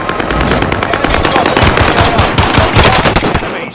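Loud, rapid automatic gunfire from a battle royale video game rattles in dense overlapping bursts, close and continuous throughout.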